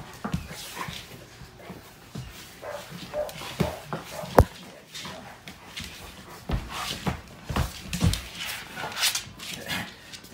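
A pit bull whimpers and yips in short, uneven bursts, close by, amid scuffling and shuffling noises during jiu-jitsu grappling.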